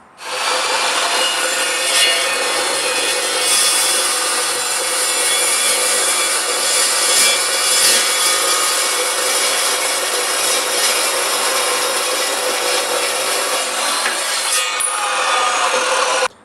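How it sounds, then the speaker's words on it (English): An Evolution carbide-tipped metal chop saw cuts through steel square tubing with a loud, continuous high-pitched grinding whine, steady from start to finish before cutting off abruptly at the end. "I will cut another piece of this square tubing"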